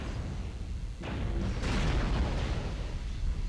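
Mech weapons fire in MechWarrior Online as a light mech circles behind an enemy: a loud, dense broadband burst kicks in about a second in and swells again near the midpoint, continuous booming and crackling over a low rumbling engine bed, no voices.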